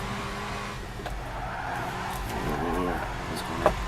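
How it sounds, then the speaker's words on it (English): Car engine and tire squeal from Gran Turismo 5 while drifting, a steady droning motor with rising skid tones near the end, a couple of sharp bumps close by. "Car actually sounds pretty decent."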